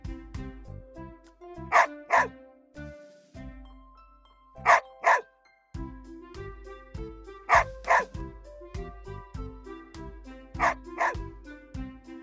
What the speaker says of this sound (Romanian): Câinele face ham-ham